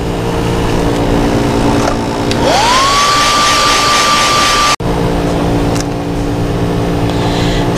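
An electric heat gun heat-sets spray paint on a repainted toy, blowing a loud, steady roaring whine that holds a constant pitch for several seconds, with a sharp break partway through and the same drone continuing after.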